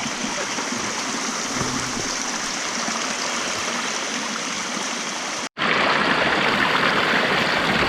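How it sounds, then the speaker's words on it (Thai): A small mountain stream flows steadily with a close, constant rushing hiss of water that cuts out for a split second and then resumes slightly louder. "นี่ครับน้ำออกน้ำจากลำธารนะครับ"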